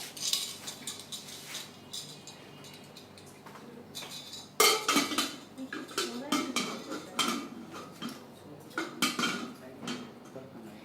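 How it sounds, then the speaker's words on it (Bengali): Kiam 2.5 litre pressure cooker lid being handled, with irregular metallic clanks and clinks of cookware, a louder cluster of knocks partway through, close and without speech. "সেই সাথে ঢাকনাটা দেখিয়ে দিচ্ছি"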